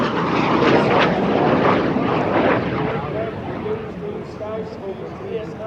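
A MiG-17F jet fighter flies past at an air show, a loud broad engine roar that peaks early and slowly fades, with an announcer talking over it.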